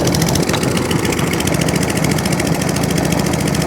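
A lawn mower engine idles steadily up close, a continuous loud chugging drone with no pauses and no voices over it.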